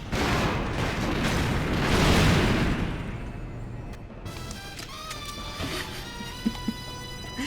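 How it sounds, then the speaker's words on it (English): Fireworks explode in the James Bond video game Agent Under Fire: a loud, dense booming burst for about three seconds, then fainter crackles, whistles and pops as the blasts die away. "Yep, right there. Fireworks."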